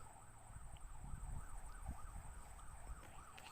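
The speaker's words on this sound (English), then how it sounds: "You can hear the fire trucks going." Fire truck sirens wail faintly in the distance on a Melbourne street, a rising and falling tone repeating steadily under a low background rumble.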